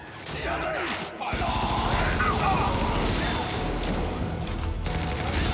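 Gunfire in the Helldivers video game: dense, continuous rapid bursts of automatic fire, loud and close, with a short break near the start and shots layered throughout.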